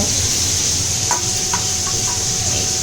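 Steady, loud sizzling of fish frying one piece at a time in hot oil in a large wok, a continuous hiss with a few faint clinks.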